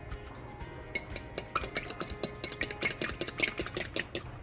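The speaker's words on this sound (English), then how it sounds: "just whisk until the white and the yolk are thoroughly combined" Egg being whisked in a large bowl, a rapid run of light clinking strokes that starts softly and grows louder and steadier, close by in a quiet kitchen.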